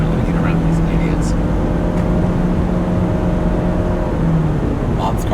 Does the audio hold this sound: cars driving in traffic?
yes